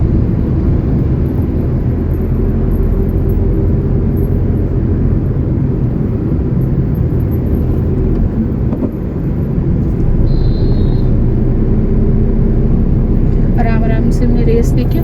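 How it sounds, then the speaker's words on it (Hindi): A car engine hums steadily and loudly while driving and accelerating through the gears into fourth, with constant road and cabin rumble and a voice talking over it. "आराम से हमने रेस देखिए 4th गियर में कर लिया अभी"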